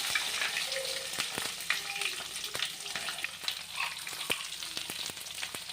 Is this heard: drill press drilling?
no